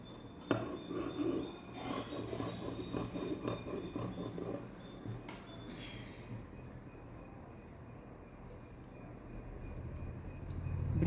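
Scissors cut across blouse fabric on the bias, producing a close, continuous rasping crunch of blades working through cloth with a few sharper snips early on and no talking.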